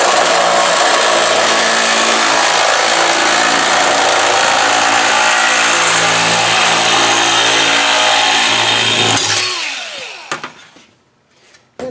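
Bosch GSC 12V-13 cordless sheet metal shear cutting 0.040-inch aircraft spar metal, a loud steady close-up buzzing grind held for about nine seconds before stopping, followed by a few light clicks and handling noises.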